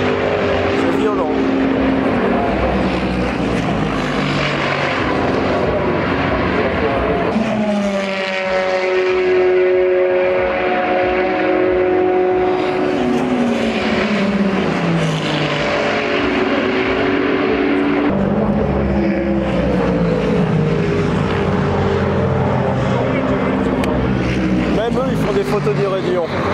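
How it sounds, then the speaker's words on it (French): GT3 and hypercar race cars passing at Raidillon, Spa, engines screaming loudly past in a string of rising and falling pass-bys that overlap continuously, with crowd ambience beneath. "la différence de vitesse entre une GT3 et une hypercar, c'est violent"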